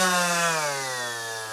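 A Flex orbital sander running on its low speed against a piece of pine, a steady close whirring hum that holds evenly for a brief moment.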